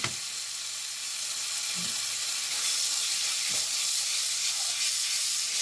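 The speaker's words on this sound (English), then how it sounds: "You hear it sizzling?" Steady hot sizzling of taco meat frying in a pan, a continuous crackling hiss with a few soft clinks, close and fairly loud, no talking.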